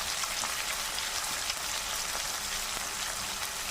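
Chopped onions and garlic sautéing in hot oil for a bitter gourd curry, a steady close hiss and crackle of frying with no talking.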